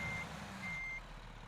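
Reversing beeps of a truck in American Truck Simulator, two steady electronic tones heard close over a low engine rumble.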